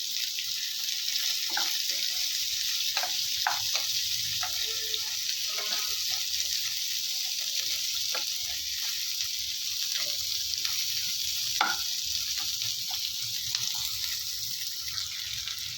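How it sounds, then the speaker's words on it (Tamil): Onion, garlic and ginger sautéing in a pan for chicken gravy, a constant bright frying hiss with scattered small crackles and stirring scrapes, steady and close. "இந்த வெங்காயம் பூண்டு இஞ்சிலாம் நல்லா வதங்கி வரணும்"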